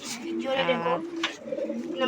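Domestic pigeons kept on a home rooftop coo in soft, low repeated phrases, close and clear, with some chirping overlapping the calls.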